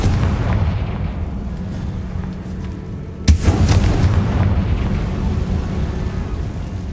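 A Confringo fire-spell blast from the Hogwarts Legacy video game lands as one sudden sharp boom partway through, set against a steady, dense rumbling game soundscape that continues before and after the hit, with no talking.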